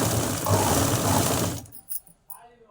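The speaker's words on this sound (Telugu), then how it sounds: "పైనుంచి ఒక స్టిచ్ వేసుకుంటాను" A sewing machine stitching red fabric for a saree blouse lining, whirring loudly and close for about a second and a half before stopping, then a brief faint voice and small handling noises.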